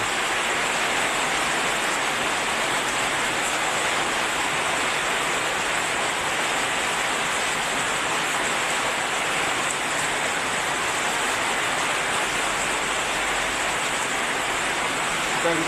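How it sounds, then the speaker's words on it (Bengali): Heavy morning rain falls steadily in Kanchanbari, Tripura, a dense, unbroken hiss that stays loud and even throughout, with no voices over it. "এই দেখো বন্ধুরা, প্রচুর বৃষ্টি আইছে।"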